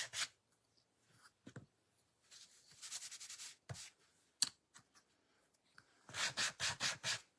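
Scattered scratchy rubs of sandpaper on a wooden quilt-block kit piece, ending in a steady burst of five quick back-and-forth sanding strokes up close.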